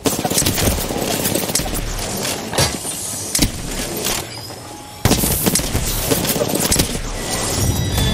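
Dense, loud gunfire in the battle royale game Apex Legends during the final fight, with bursts and sharp cracks running continuously throughout and heavy blasts near the start and middle.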